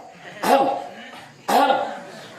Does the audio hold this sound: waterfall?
no